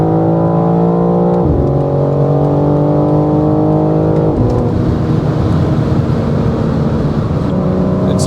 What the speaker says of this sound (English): Let's give it full throttle here.